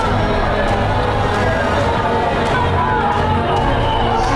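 A crowd of maskless protesters in Las Vegas produces loud continuous hubbub and scattered cheers from many voices, an outdoor mass of chatter and shouting.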